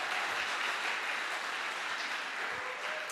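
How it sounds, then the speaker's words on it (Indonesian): An audience at a student orientation at STFT Jaffray Makassar applauds its music lecturers, a dense, steady wash of clapping that holds at an even level for the full few seconds. "Oh, boleh tepuk tangan lah ya."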